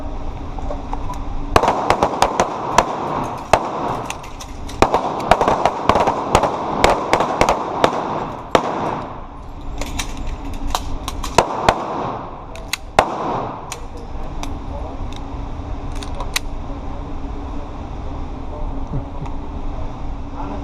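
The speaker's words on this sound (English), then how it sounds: "Shoot gun till slide lock. Emergency reload. 3 rounds at a high center chest." Taurus G2C pistol fired at an indoor range during a defensive pistol class, sharp close shots in quick strings with brief pauses between them, mixed with other shooters firing further down the line.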